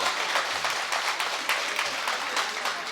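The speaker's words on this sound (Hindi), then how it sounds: "शेर अच्छा था तो जोरदार तालियां बजाकर एक बार मुझे बताएं" A mushaira audience in Sambhal breaks into dense, sustained applause, many hands clapping together in a steady roar that fills the space, loud and close with no speech over it.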